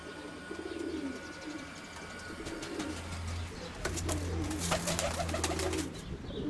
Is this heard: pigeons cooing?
yes